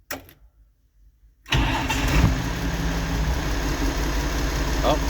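An International Harvester 88/86 series tractor engine turns over after a brief near-silent gap, then settles into a steady, loud, close idle that runs continuously to the end.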